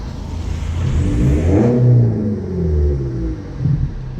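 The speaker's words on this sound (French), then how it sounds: "Je vais faire 2-3 coups de gaz à l'arrêt, là, vous allez entendre ce que c'est." A BMW 318d E90 with the M47 diesel and a full straight-pipe exhaust revs while parked, giving a loud, close, rumbling roar that climbs through a couple of throttle blips and then settles back to a rough idle.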